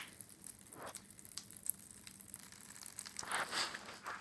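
Pop Rocks candy dropped into water crackles with faint, scattered fizzing pops and tiny snaps, quiet and close, no voices.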